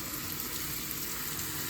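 Sweet peppers and tomatoes sizzle steadily in a hot pan while a fish stew cooks, a close, even frying hiss with no talk.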